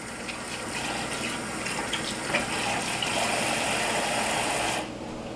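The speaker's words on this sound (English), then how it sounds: "I must wash my hands 100 million times" Tap water runs steadily while hands are washed, a continuous broad gushing hiss with small splashing variations that cuts off abruptly near the end.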